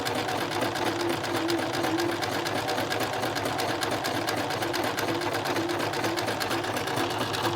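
Household sewing machine running a zigzag stitch on fabric, a continuous fast rattling hum with even needle clatter, held steady and close for the full stretch without talking.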